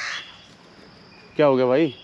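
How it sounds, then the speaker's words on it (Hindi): A man briefly asks a question, then a single loud crow caw rings out close by, harsh and drawn out, from high in a tree in early morning in Zambia. "और कौवा बोल रहा है ऊपर।"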